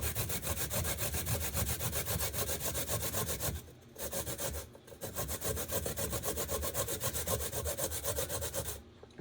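Vegetables being grated by hand for vegan lentil burgers: fast, steady rasping strokes close up, with two brief pauses before the scraping resumes, and no talking.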